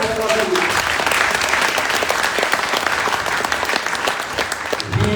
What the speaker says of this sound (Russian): Давайте похлопаем Алекса Мортона.